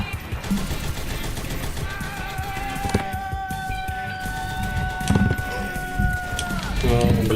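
Shotgun gunfire from the 8-bit cyberpunk action game Huntdown, with repeated blasts and clattering weapon fire under steady game music and effects throughout, and a voice talking over it.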